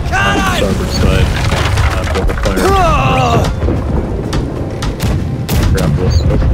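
Ship cannon fire in a naval battle game, booming blasts and cracking shots layered over constant battle noise, with a voice speaking over the combat throughout.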